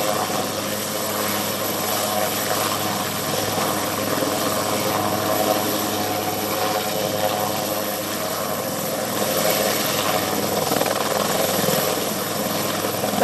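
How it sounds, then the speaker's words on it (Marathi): A rescue helicopter hovering low over rough rocks in the Girna River near Malegaon, a loud steady rotor and engine roar that holds throughout at close range. "तर आता हेलिकॉप्टर जे आहे ते या ठिकाणी दगडावर लँड करण्याचा प्रयत्न या ठिकाणी केला जातोय"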